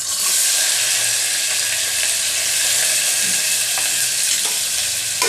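Chopped onion sizzles and fries in a hot pan as the base for a mutton paya gravy, a steady close crackle with occasional stirring scrapes.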